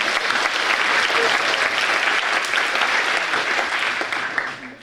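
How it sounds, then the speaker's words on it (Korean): Audience at a student association's general assembly bursts into loud, dense applause for a special guest, a thick sustained roar of clapping that holds steady and then tapers off at the end. "장경준 선생님께 다시 한번 큰 박수와 환호 부탁드립니다"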